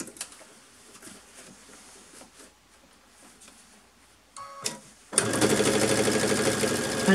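A sewing machine stitches across fabric backed with tearaway stabiliser, a loud steady mechanical whir that starts abruptly near the end after quiet handling and a brief clatter.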